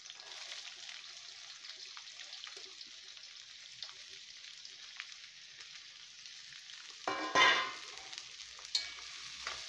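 Sliced onions fry in oil in a pan, a faint steady hiss close by, with a louder splashy burst of sizzling and stirring near the end.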